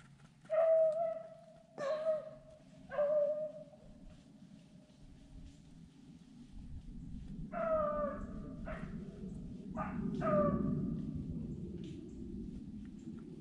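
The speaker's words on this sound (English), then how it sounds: "The dogs had actually jumped up two rabbits" Hunting dogs bark in bursts after jumping up rabbits during a duck hunt turned rabbit hunt, several sharp, loud yelps spaced apart early on, then more distant, overlapping barking over an outdoor rumble.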